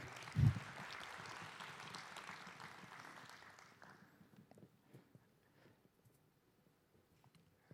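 Steady applause from a conference audience, dense at first then thinning out and fading into scattered claps and quiet.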